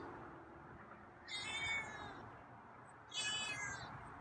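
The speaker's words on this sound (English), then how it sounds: "Okay, so that's a meow." A feral cat meows twice, two drawn-out, fairly faint calls spaced a couple of seconds apart over quiet outdoor background.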